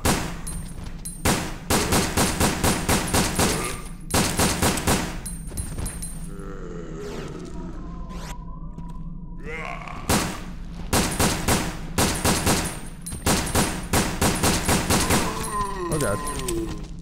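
Zombies are shot in the video game Resident Evil Dead Aim, with loud, rapid bursts of automatic gunfire repeating in several volleys. Between the volleys come quieter gaps with groans and other game sounds, and a voice talks at times.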